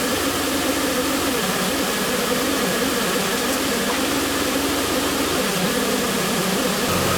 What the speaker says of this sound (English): Now it's just a matter of waiting until the engine gets up to temp.